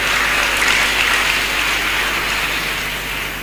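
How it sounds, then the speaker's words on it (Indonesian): Sustained applause from a large audience honoring a police general, a dense, even wash of many hands clapping throughout without a pause. "Tepuk tangan untuk beliau."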